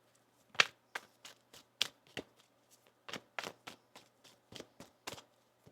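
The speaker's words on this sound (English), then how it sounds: "One more shuffle." Tarot cards are shuffled in a quiet room, giving a series of soft, crisp riffling taps at an uneven rhythm, close but faint, with no voices.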